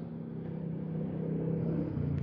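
Early-morning road traffic near a police checkpoint in the Philippines: a steady low hum of car engines with a faint passing vehicle, moderately quiet and without talk.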